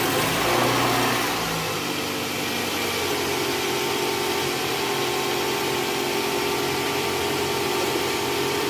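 Toyota Alphard engine idling smoothly after a balancer replacement, a steady even hum with faint mechanical whir, heard close and alone without talk.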